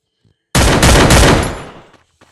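A loud burst of machine-gun fire in the battle-royale game Free Fire MAX starts abruptly after a moment of near silence, rattles for about a second, then tails off into a fading echo.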